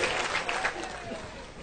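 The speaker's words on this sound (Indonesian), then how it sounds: "Tepuk tangan untuk mereka bertiga" An audience claps for three people on stage, a brief spell of dense, moderately faint applause that runs steadily throughout with voices mixed in.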